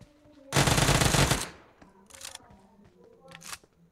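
Gunfire in the BGMI battle royale mobile game: a loud, sustained burst of rapid automatic fire lasting about a second, followed by a few fainter, shorter shots.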